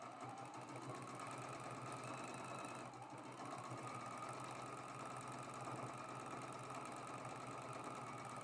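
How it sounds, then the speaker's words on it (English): A sewing machine stitches the middle seam of a Lone Pine Tree quilt block from edge to edge, running as one continuous, even mechanical whir with a fast rhythmic needle beat, fairly quiet and alone with no talking. "we're sewing that middle seam from edge to edge with a 1/4 inch seam allowance"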